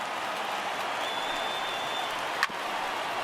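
A stadium crowd of over 39,000 in the MLB The Show 19 video game roars and applauds steadily at a distance, a broad wash of cheering with one brief sharp pop near the end.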